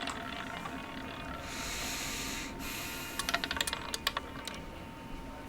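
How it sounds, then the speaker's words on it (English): Computer keyboard during a Fallout: New Vegas session on PC, with the E key pressed repeatedly: a quick burst of light clicking taps in the second half over a quiet game hum, fairly close and faint. "You do have to press E on your keyboard quite a bit doing this process."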